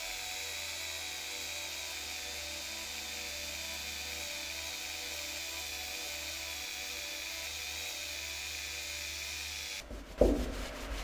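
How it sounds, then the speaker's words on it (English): A steady, even whir of a rotary mini felt nozzle with diamond paste polishing the surface of a handcrafted axe head, running unbroken for about ten seconds before a brief clattering handling noise at the end. "I use a mini felt nozzle and polish every inch of the surface."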